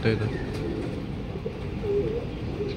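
Homing pigeons coo softly on their return during a club training session in Luisiana, Laguna, with a steady outdoor murmur and a voice talking underneath.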